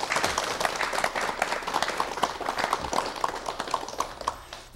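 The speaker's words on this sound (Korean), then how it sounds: "여러분 박수로 맞이해 주시면 대단히 고맙겠습니다" A television studio audience claps to welcome the new KBS Symphony Orchestra director, a moderate, fairly even round of applause with distinct individual claps, tapering off toward the end.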